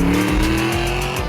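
A 1993 Ford Fox body Mustang Cobra R driving hard with its engine revving, a loud steady roar held close for a brief moment with no talk.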